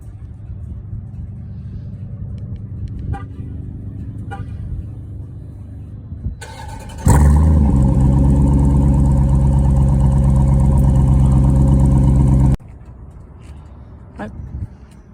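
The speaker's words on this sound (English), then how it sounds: "startup 2020 Dodge Durango SRT 392" A 2020 Dodge Durango SRT 392 fires up with a sudden loud bark that settles into a deep, steady rumbling idle, then cuts off, leaving quieter surroundings.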